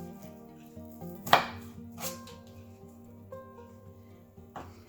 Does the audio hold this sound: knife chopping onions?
yes